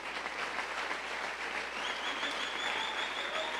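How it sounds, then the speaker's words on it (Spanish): A church congregation claps together during a Spanish-language Thursday evening service, the steady applause holding at a moderate level throughout with no voices over it. "Dale una ofrenda de palmas al Señor"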